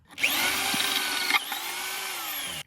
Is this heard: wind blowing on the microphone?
no